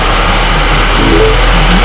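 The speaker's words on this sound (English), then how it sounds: "you put this in and you put the clutch in and hit the start button" The engine of a salvage auction car bought from Copart UK runs loud and close after being started with a start button, a steady, even hum with a slight lift in pitch partway through.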